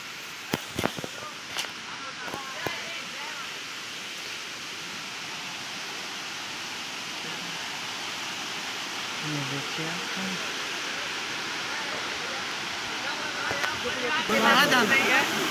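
The Dhardariya waterfall, heard from the top, gives a constant rushing roar of falling water at moderate loudness, with brief knocks early on and a voice faintly audible near the end.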